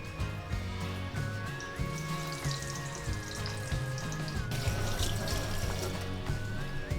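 Butternut squash pakora batter frying in hot fat at 180 degrees, a steady continuous sizzle with light bubbling running close and loud throughout, a thin tonal whine and faint background music underneath.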